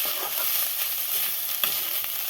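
Banana stem (thor) fries in oil with garlic, dry red chilli and black cumin over a low gas flame, giving a steady, close, even sizzle with faint stirring scrapes and no talk.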